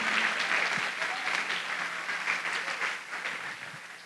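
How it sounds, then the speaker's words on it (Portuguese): A church congregation applauds the Lord, a dense, sustained wash of clapping that holds steady for four seconds and tapers slightly toward the end. "Vamos dar um grande aplauso ao Senhor por isso?"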